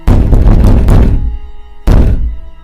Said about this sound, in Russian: в этот момент что-то сильно бухнуло по двери